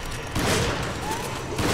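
Shotgun blasts at a mutated dog in Resident Evil 5, loud and close, layered over the game's background noise and music, with a burst near the start and another at the end.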